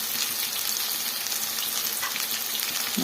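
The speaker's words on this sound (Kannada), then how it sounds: "ಇವಾಗ ಎಲ್ಲ ಮಿಕ್ಸ್ ಮಾಡಿಕೊಂಡು ಫ್ರೈ ಮಾಡ್ಕೊಳ್ಳೋಣ" Fenugreek seeds, garlic and onion frying in a pan make a steady, close hiss of sizzling oil that runs unbroken with no voices.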